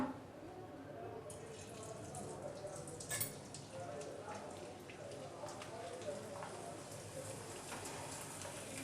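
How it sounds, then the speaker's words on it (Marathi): Papad dropped into hot oil, a dense, steady crackling sizzle like rain on a surface that bursts up sharply and holds close and continuous throughout, with a voice speaking over it. "आता आपलं तेल तापलेलं आहे तर यामध्ये आपण पापड सोडूया"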